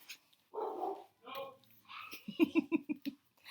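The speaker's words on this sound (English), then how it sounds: "Sorry about the dogs barking." A dog barks in a quick run of sharp, rhythmic barks near the end, after some brief whining and yelping sounds, fairly close by.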